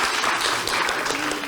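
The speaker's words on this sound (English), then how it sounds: "Let's give her a round of applause" A school audience applauds during a library dedication ceremony, a dense, steady patter of clapping throughout this short stretch.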